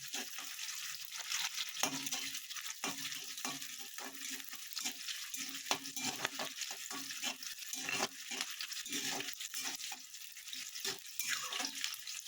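Onions fry in a pan for a tomato chicken curry, a quiet continuous sizzle with frequent irregular scrapes and knocks of stirring throughout.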